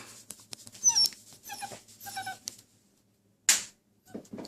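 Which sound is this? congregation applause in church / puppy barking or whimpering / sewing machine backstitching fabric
puppy barking or whimpering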